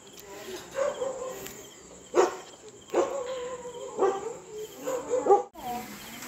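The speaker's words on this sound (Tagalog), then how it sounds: "Oh, yan yung mga aso." Several sharp dog barks spaced a second or so apart, moderately distant, with outdoor background noise; a voice seems to murmur faintly underneath.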